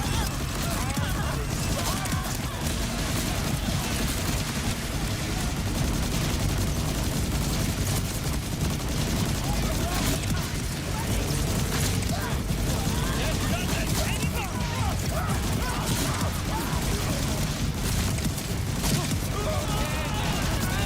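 Continuous automatic gunfire and explosions in the video game Borderlands 4, a dense, unbroken barrage of shots, blasts and crashes mixed with game effects, held steady and loud throughout.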